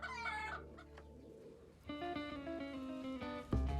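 Chickens on a farm on Wolfe Island cluck and squawk close by, with a rooster-like call rising partway through and a loud burst at the end.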